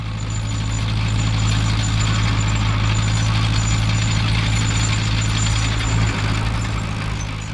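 Steady, loud low engine drone of a little 80hp Fiat 80-65 crawler pulling a 6.5-tonne, 12.8 m set of hydraulic folding Needham rolls over freshly drilled sugar beet in Essex, continuous throughout with no talk.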